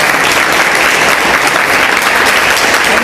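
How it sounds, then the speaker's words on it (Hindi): Enthusiastic applause from a crowd welcoming a guest speaker at a DMIT counseling event in Kashmir, dense and sustained clapping at steady loudness throughout. "जोरदार तालियों के साथ स्वागत करना चाहूँगा"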